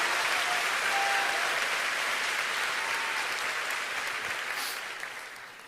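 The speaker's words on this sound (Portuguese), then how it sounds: "Aplauda mais forte o nosso Deus" A church congregation applauds God in a strong, continuous burst of clapping that fills the hall, holding steady before tapering gradually toward the close.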